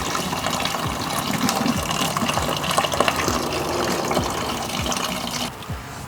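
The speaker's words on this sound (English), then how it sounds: "opening up the cap at the top should let it drain faster" Engine coolant drains from a 1.8T Audi A4 with its top cap opened, pouring in a continuous splashing gush with irregular gurgles and drips close by, and no voices.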